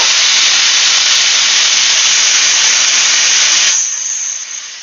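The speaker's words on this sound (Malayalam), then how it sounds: "ഇത് 3ാമത്തെ വിസിലാണ്." Pressure cooker whistle releasing steam in a home kitchen, a loud, continuous high hiss that holds steady for several seconds and then drops off sharply as the release ends.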